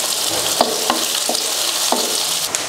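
Onions, green chillies and curry leaves sautéing in hot oil for an egg pepper curry, a steady broadband sizzle with a few soft stirring scrapes spread through the stretch, close and fairly loud with no talk.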